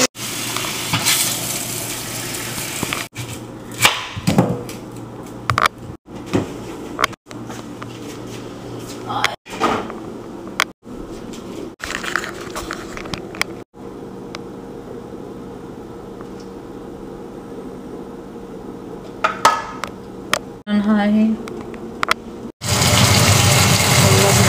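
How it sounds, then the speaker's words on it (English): Tomato puree and a little water go into a pan of caramelized onions, giving a steady sizzle and gush of liquid in the cooking pan, with clattering stirring sounds and a voice talking over it. "once the onions have caramelized, we went ahead and added the tomato puree and a little water"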